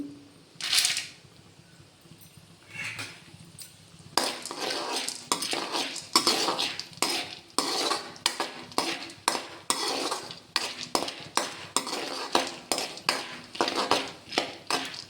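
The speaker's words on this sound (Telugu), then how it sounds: "పుట్నాలు వేస్తున్నాను కొద్దిగా ఆయిల్లో బ్రౌన్గా చేసుకోవాలి" Roasted gram (putnalu) browning in a little oil in a pan, stirred with a metal spoon: a rapid, steady run of scraping clinks against the pan over a soft sizzle, close and without talk.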